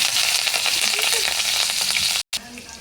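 Chopped green chilies and cumin fry in a spoonful of oil for masala Maggi noodles, producing a loud, dense, close sizzle with light stirring that cuts out abruptly for a split second near the end.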